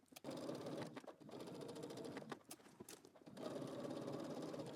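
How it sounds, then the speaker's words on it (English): A sewing machine stitches in the ditch along a skirt seam, running in steady bursts with brief pauses between runs, close and fairly quiet. "let's head over to the sewing machine, and we're going to stitch in the ditch"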